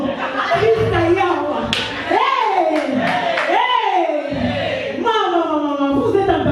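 A church congregation clapping and cheering together in acclamation, lively crowd applause with raised voices shouting throughout, close and loud.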